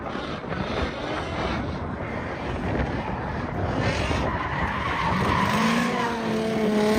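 Nitrous-equipped drift car skidding through a drift battle, a loud sustained tire screech over engine roar that rises in pitch toward the end, heard alone without speech.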